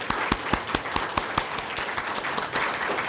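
A church congregation claps in thanks during a Sunday worship service, a sparse, fairly rhythmic clapping with distinct individual claps standing out over a softer wash, moderate in level.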